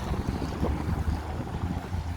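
Steady blustery, cold wind in Reykjavik buffeting the microphone, a low rumbling roar that continues without pause and without voices.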